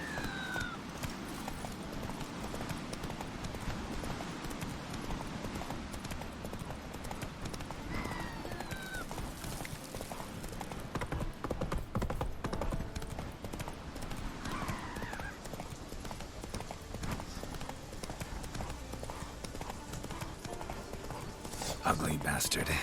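A horse gallops in The Witcher 3, its steady clip-clop of hooves running through the whole stretch alongside whinnies, game sounds and talk.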